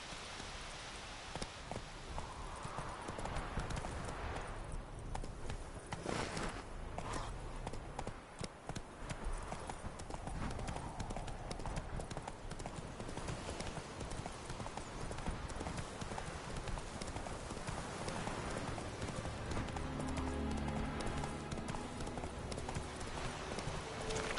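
A horse galloping in The Witcher 3: Wild Hunt, a dense continuous run of hoof clip-clops close up that lasts throughout, with brief snorts and game ambience, no voices.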